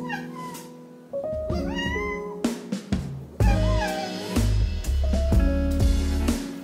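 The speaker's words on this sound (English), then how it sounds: "He's a cat that likes his independence." A long-bodied house cat meows repeatedly, close and fairly loud, with drawn-out rising and falling cries between short pauses.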